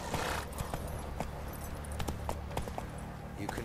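Roach, Geralt's horse in The Witcher 3: Wild Hunt, trots with soft, quiet clip-clop hoofbeats beneath a low ambient rumble and music, with a faint whinny-like sound near the start.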